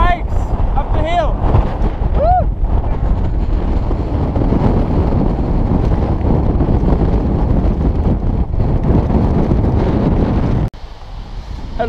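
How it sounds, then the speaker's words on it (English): Strong wind buffets the microphone outdoors on a hillside in New Zealand while cyclists push bikes uphill, a loud roaring rumble throughout with brief voice-like whistles early on and a drop near the end. "It's a little bit windy in here."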